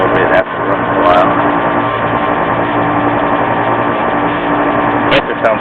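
A new Carrier split air conditioner compressor, overcharged, runs loud and close with a steady droning hum and mechanical whine, a few clicks over it and a voice talking briefly.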